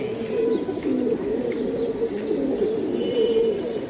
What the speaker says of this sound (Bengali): এই যে আরেকটা কবুতর, ওটা বুট ঠোঁটের সিলভার কবুতর